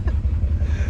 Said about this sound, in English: That engine might be knocking. It's got a pretty loud noise going on.